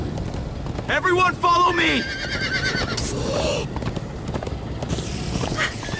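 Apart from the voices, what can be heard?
galloping horses in Minecraft: Story Mode video game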